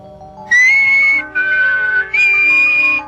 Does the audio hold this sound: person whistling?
yes